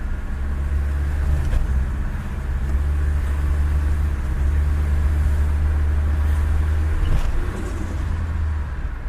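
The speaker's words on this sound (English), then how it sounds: "Turbo sounds different." A car's turbocharged engine drones steadily with a deep low rumble on its first drive, the tone holding constant with slight shifts, close-miked inside the cabin and without talk.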